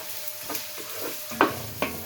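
Ginger frying in a pan as the first step of pork dinuguan, with a low steady sizzle broken by two sharper stirring scrapes near the end.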